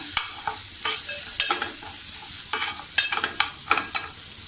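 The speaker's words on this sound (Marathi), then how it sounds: "थोडीशी हळद, ही सुद्धा जरा अशी आपण परतून घेऊया." Turmeric sautéed in a pan while making Mumbai-style vada pav: a close, steady frying sizzle broken by repeated sharp scraping and clinking strokes of a spoon stirring against the pan, with no talk.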